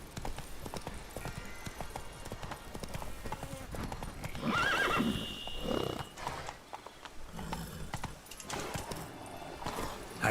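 Roach, a horse in the Witcher 3 Blood and Wine game, gallops with rapid clip-clop hoofbeats and lets out a loud whinny midway, set against game ambience and music.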